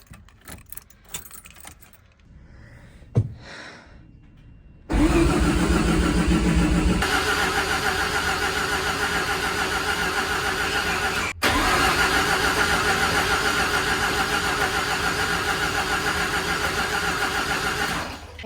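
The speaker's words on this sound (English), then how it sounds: "the car was cranking but would not turn over" Keys jangle near a Mazda RX7 FC before its engine cranks loudly and steadily for several seconds, pauses briefly, then cranks again at length without catching, close and with no talking.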